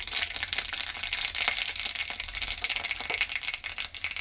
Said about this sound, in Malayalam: എണ്ണ അടുപ്പ് വെച്ച് ചൂടായി കടുകിട്ട് പൊട്ടുന്നു.